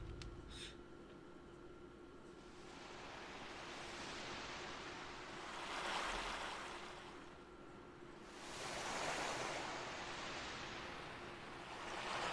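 Ocean waves at sunset in the Pokemon Mystery Dungeon video game roll in as soft, hissing swells that rise and fall slowly, peaking about every three seconds, faint and steady with no talk.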